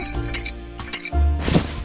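Dice rattle and clink inside a shaker for a Hi-Lo dice game, giving a few sharp bright knocks followed by a louder shaking burst, close and with no voices.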